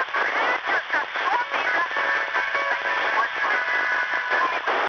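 Music played over a jammed Russian military radio channel, a dense crackly band-limited signal with tonal melodic lines running steadily under hiss and noise throughout.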